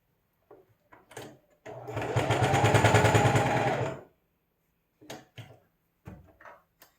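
A home sewing machine runs in one steady burst of rapid stitching for about two seconds while face masks are being made, with a few short clunks and handling knocks before and after.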